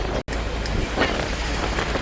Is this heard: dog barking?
no